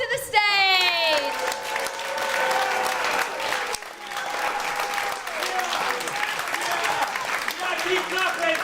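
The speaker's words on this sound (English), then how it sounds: "Keep clapping!" Sustained audience applause fills a comedy club at a live stand-up show, dense and steady throughout, with cheering voices and a shouting host layered over the clapping.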